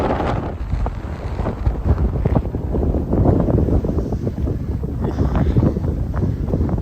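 Cold winter wind in Regina on a December walk buffets the microphone with loud, continuous low rumbling gusts that fill the whole stretch, with no one speaking.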